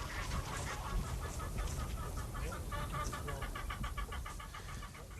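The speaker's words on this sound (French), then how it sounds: "Dans les Côtes d'Armor, René Louail produit des poulets qui grandissent 3 fois moins vite que les poulets industriels." Chickens cluck in a dense, overlapping chorus on a farm in the Côtes d'Armor, slow-growing birds raised for about 80 days, with rapid repeated clucks rising over a low rumbling background throughout.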